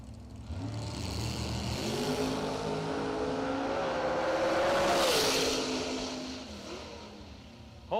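Drag race car with Team 7 Racing and Matt Goods Racing sponsorship, a Corvette, launching at Radial Fest, loud engine roar rising steadily over several seconds then easing off as it pulls away.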